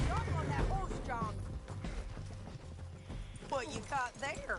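Hooves clip-clop at a steady trot under a voice shouting, with a horse whinnying briefly, in a video game.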